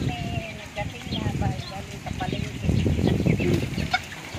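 Chickens cluck and squawk in short bursts near a home after a return from the market, while people talk over and between the calls.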